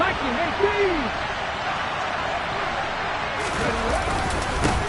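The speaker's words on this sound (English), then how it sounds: "the crowd getting into it as we come up on a big 3rd down" A football stadium crowd roars steadily ahead of a big third down, a broad, sustained wash of cheering with scattered shouts and voices.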